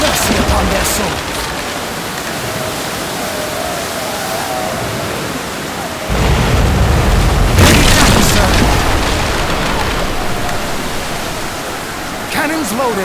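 Ship cannons fire a broadside in the naval strategy game Commander: Conquest of the Americas, heavy booms rolling into a dense wash of roaring noise that swells loudly partway through.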